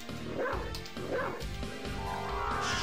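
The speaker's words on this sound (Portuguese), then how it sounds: "Vamos virar o cão, o lobo." Wolf transformation effect from Castlevania: Symphony of the Night, two quick yipping dog-like barks about a second apart, followed by a lower sustained tone with a few faint whimpering notes.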